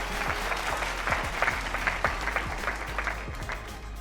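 Studio audience at a fashion show applauding contestant number 41, steady dense clapping throughout with no talk.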